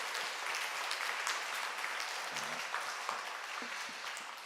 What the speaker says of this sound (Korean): 우리 영광의 박수로 드리도록 합니다